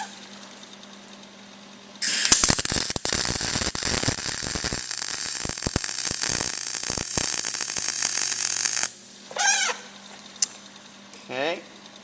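A MIG welder lays a bead on exhaust metal, giving a loud, close, crackling sizzle with sharp pops that runs for about seven seconds and then stops, followed by brief squeaky mechanical sounds.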